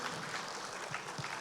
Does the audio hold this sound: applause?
yes